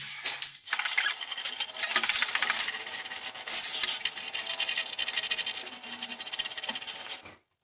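A mixture is stirred in a container while a wall-hung toilet is being installed, a steady scraping, rasping churn that runs close and continuous for several seconds before stopping abruptly.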